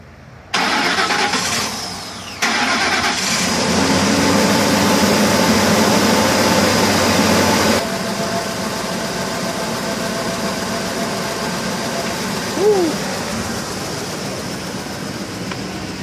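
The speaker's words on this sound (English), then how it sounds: "We got a bit of a misfire going on, huh?" A Ford truck engine cranks and catches, then idles roughly with an uneven misfire, loud and close, the revving settling into a steady lumpy idle.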